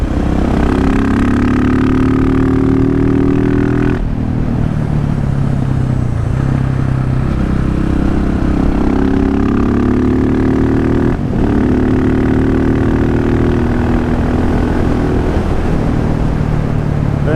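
A 2015 KTM 690 SMC R motorcycle engine pulls steadily and loud up close, its drone dropping briefly at two gear shifts before climbing again as it upshifts.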